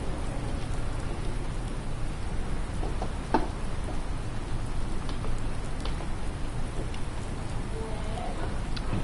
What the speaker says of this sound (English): It really is raining a lot.